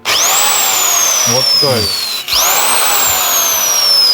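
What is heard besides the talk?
electric drill running on homemade Soviet-style device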